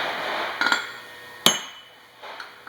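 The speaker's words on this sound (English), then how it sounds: "You may have to use a hammer to loosen it up" A hammer taps the puller screw of a 9B/E hardware tensioner HT-5506, giving a couple of sharp metallic strikes with brief ringing, separated by quiet gaps.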